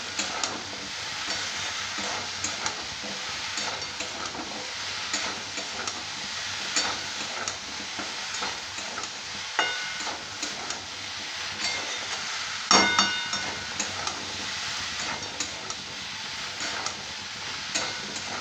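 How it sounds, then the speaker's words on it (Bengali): Mixed vegetables with chilli, salt and a splash of water fry in a pan with a continuous crackling sizzle. A spatula scrapes and stirs them at intervals, with one sharper clack partway through. No voices are heard. "সামান্য একটু জল দিয়ে এটা ভেজে দিচ্ছি, তলায় লেগে যাচ্ছে।"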